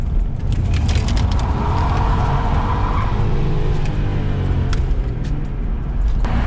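A BMW E60 M5 drifts with a loud, sustained engine roar and tire noise, heard from inside the car, continuous and dense with some rattling clicks.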